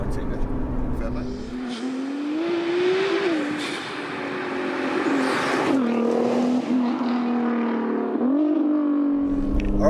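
Hybrid-turbo Nissan GTR making 820 bhp, accelerating hard with a loud sustained engine note that rises through gears with shift dips, tires squirming, close and continuous with a voice over it.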